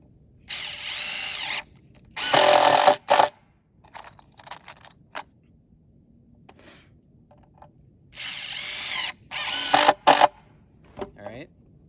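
Power drill driving screws into the frame of an Alaskan chainsaw mill setup, in two long whirring bursts with short gaps between, close and loud, with quieter handling noises and a voice or two in between.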